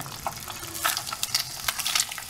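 An egg fries in hot oil in a pan, sizzling and crackling steadily with small popping bursts throughout, close up and with no talking.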